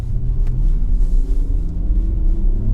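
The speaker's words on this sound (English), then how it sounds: "Plenty of acceleration from this rear axle motor." A 2025 Porsche Macan Electric pulls hard under acceleration from its rear axle motor, giving a steady low rumble of road and drivetrain noise inside the cabin with no talk.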